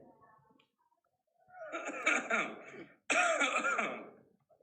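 Two drawn-out, throaty coughing bursts close to the mic, sounding forced and theatrical, separated by a brief pause, with faint talk at the start.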